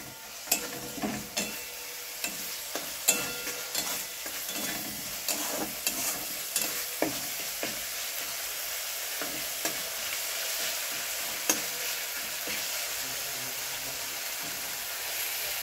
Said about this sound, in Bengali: এইবার শুধু আস্তে আস্তে করে ভাজবো।